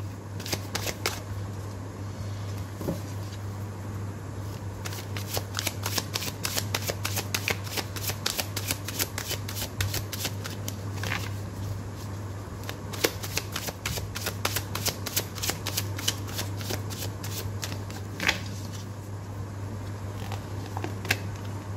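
Tarot cards shuffled by hand in a steady run of crisp riffling flicks and soft slides, close and fairly loud over a constant low electrical hum, with no talking.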